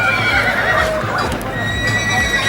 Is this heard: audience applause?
no